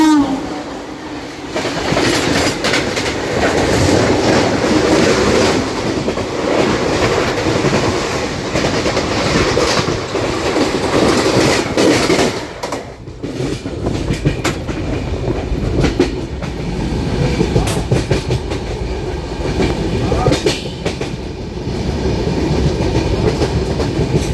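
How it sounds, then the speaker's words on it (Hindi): A train thunders past on the railway near Gorakhpur, a loud, close, sustained roar with rhythmic clickety-clack of wheels over rail joints that continues almost unbroken for the whole stretch. "ओहो, कोई ट्रेन आ रही है।"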